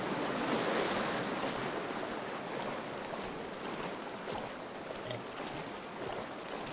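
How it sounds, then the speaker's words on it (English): Steady watery swishing and splashing from a character swimming across water in the survival shooter Deadside, a continuous broadband wash with wind-like hiss, fairly loud and unbroken throughout. "I'm just straight up swimming across."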